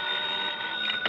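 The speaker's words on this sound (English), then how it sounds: "the phone beside my bed started jangling again" Telephone beside a bed ringing in a radio drama, a steady jangling bell tone that carries through the whole short stretch at moderate loudness, with no voices.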